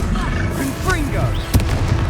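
Confringo fire-blast spell in Hogwarts Legacy, loud rumbling explosive combat noise with a sharp impact burst near the end, while voices call out over the chaotic fight.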